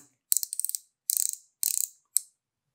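Twisting the end of a touch-up paint pen gives off bursts of rapid, crisp ratcheting clicks, four separate clusters with silence between them, close and clear with nobody talking.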